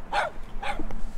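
A dog barks twice in quick succession on a city street in Buenos Aires, sharp close yaps with a short gap between them and no speech over them.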